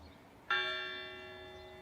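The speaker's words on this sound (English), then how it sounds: "that is the bell that we're ringing in honor of all of our members who have lost over the years" A single bell strikes clearly at a volunteer fire station dedication, rung in honor of fallen members. The ring is bright and sustained and fades slowly with no talk over it.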